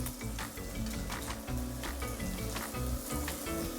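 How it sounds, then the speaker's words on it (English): Onion sizzles in olive oil in a pan at the start of a braised chicken dish: a continuous bright crackle sits over a low, steady rumbling background, with no voices. "Add our onion, get that cooking"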